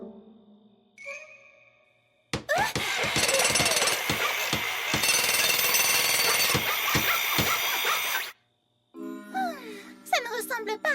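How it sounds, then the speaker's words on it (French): Cartoon carpenters hammer away in a French-dubbed My Little Pony animation: a loud, rapid, continuous barrage of hammer blows lasting several seconds, framed by brief tinkling musical tones before and after. "Marteau."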